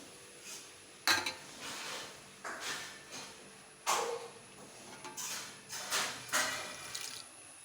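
Handfuls of a soaked ingredient are scooped into water in a pot, making about seven soft splashes and wet clatters, spaced unevenly and heard fairly close in a quiet kitchen.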